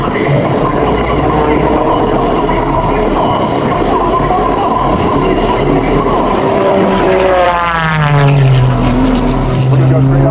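An airplane at the Quad City Air Show roars loudly overhead, a broad engine rumble that swells and shifts pitch as it sweeps past, with a voice speaking over the noise.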